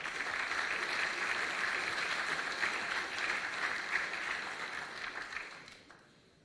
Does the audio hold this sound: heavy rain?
no